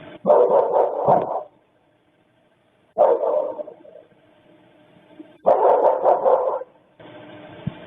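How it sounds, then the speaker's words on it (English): A dog barks in three repeated bursts of rapid, loud barking separated by silent gaps, the identical pattern recurring as in a looped recording, with no talk. "It does feel looped. It's the same barks."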